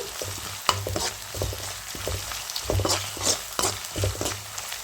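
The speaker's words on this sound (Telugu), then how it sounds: "ఇప్పుడు వన్ టేబుల్ స్పూన్ అల్లం వెల్లుల్లి పేస్ట్ వేసుకోవాలి పచ్చి వాసన పోయేంత వరకు అండి ఫ్రై చేసుకోవాలి" Ginger garlic paste fries with onions in a pan, a steady sizzle broken by repeated sharp scrapes and taps of a stirring spoon at an uneven rhythm, close and moderately loud with no talking.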